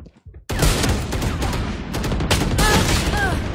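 Rapid bursts of gunfire from a video game, loud and dense, sounding close in a continuous fusillade after a short quiet start, with brief sharp cracks layered over one another.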